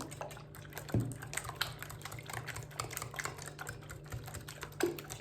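Egg yolks are whisked in a bowl for dough, giving faint, quick, irregular ticking and tapping with a couple of sharper knocks against the bowl.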